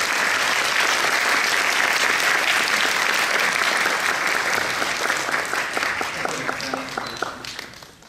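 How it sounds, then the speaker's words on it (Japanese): Sustained, dense applause from a theater audience at a Tokyo Filmex film premiere stage greeting, a loud, even roar of clapping that thins and fades out near the end. "皆様、盛大な拍手でお送りくださいませ。"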